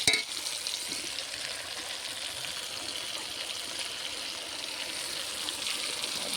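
Masala with prawns, turmeric and chopped tomato sizzles steadily in a pan, a continuous close frying hiss with faint stirring and no voices.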